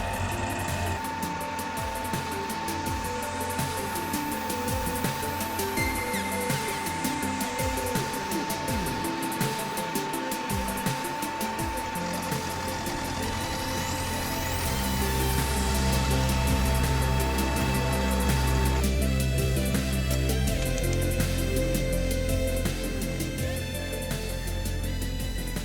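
A 6mm end mill cuts a 7mm slot in a metal axle box block for a Fell locomotive, two passes stepping over, giving a steady loud machining whine and hum that grows heavier partway through.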